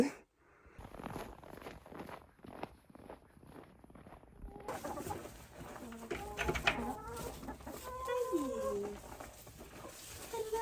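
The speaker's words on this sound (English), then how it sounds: "I give my chickens some morning treats" Hens cluck and murmur nearby after some rustling and footsteps, with soft cooing-like calls repeating steadily over outdoor background noise.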